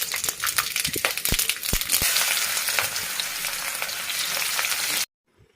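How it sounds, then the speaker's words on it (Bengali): Whole spices tempering in hot oil in a wok, a loud dense crackling sizzle with sharp pops and stirring scrapes for about five seconds, then cutting off abruptly. "কড়াইতে একটু তেল দিয়ে ভালো মতো একটু গরম করে নিচ্ছি তারপর ফোড়নের জন্য যা গুছাই রাখছিলাম ওইগুলো দিয়ে একটু নাড়াচাড়া করে নিচ্ছি"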